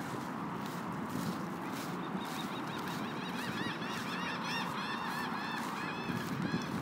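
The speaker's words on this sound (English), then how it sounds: "those birds are making a lot of noise" A flock of geese honking outdoors, many overlapping nasal calls building in number and loudness, heard from a short distance over a busy open-air background.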